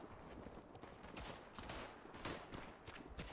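Rapid rifle fire in the WWI shooter Tannenberg, a dense burst of overlapping sharp cracks in quick succession, moderately distant and fairly quiet, with no voices.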